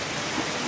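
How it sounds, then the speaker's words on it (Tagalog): Heavy rain pours steadily in a rural farm setting, a dense, even hiss of falling water close around the listener with no gaps. "Wala, ulan na talaga oh."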